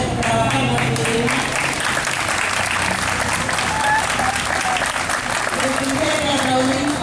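Strong audience applause rings out for a Uruguayan folk dance group performing the Pericón, many hands clapping close and continuous while voices and cheers mix in beneath it.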